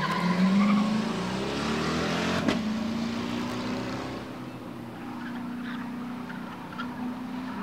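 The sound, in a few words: 1992 Corvette launching at drag race start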